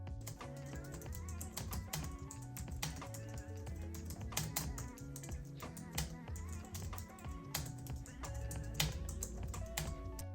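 Steady typing on a computer keyboard with deep-profile keycaps at a minimal desk setup, a continuous close clatter of keystrokes over a background of music.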